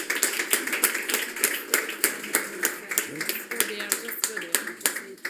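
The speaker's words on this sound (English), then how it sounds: "So maybe another round of applause for the two winners." Audience applause for two award winners at the Public Sector Tech Watch Best Case Awards 2024 ceremony, a steady round of separate, distinct claps in a room, fairly close and moderately loud throughout.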